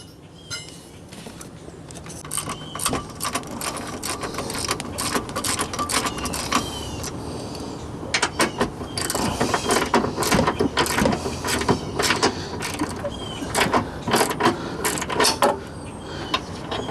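A ratchet tightens the engine torque mount bolts on a 1999–2005 Sunfire, producing a long stretch of rapid, close metallic clicking and clanking in irregular bursts.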